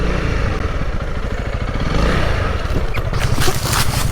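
Honda CRF300L dirt bike ridden through woods, its single-cylinder engine chugging steadily with rapid low pulses, revving up near the end alongside clatter and scrape from the rough trail.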